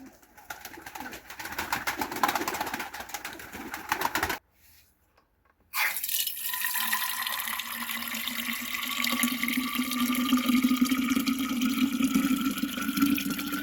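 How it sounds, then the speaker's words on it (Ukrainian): Water running from a tap into a container, a continuous splashing flow whose pitch rises steadily as the container fills, after a brief silence, with pigeons cooing faintly nearby. "Щось водички наберу."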